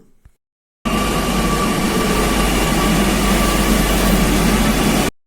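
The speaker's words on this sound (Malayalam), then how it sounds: "അങ്ങനെ ട്രെയിൻ വന്നു." A Kochi metro train pulls into the station platform with a loud, close, steady roar and hiss. The sound holds at an even level for about four seconds, then cuts off, with no voices.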